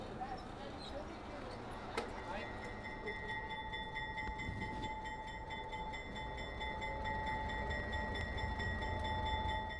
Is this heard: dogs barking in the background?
no